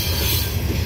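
A loaded CSX coal train rolls along the old B&O mainline on Parrs Ridge, with a steady, loud rumble of railcars and wheels on track, faint clickety-clack and a hint of wheel squeal, with no voices.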